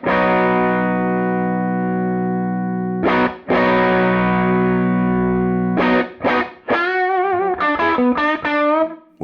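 Electric guitar through a Supro Black Magick Reverb amp with channel 2 cranked and channel 1 blended in for its bright cap, giving a loud, bright, distorted sustained chord, then a few hits and a quick melodic run.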